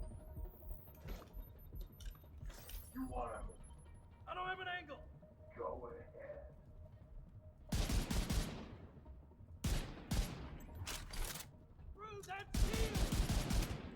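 Gunfire in the shooter video game The Division 2, with bursts of rapid automatic fire in several loud clusters between quieter stretches, and someone talking over the shots.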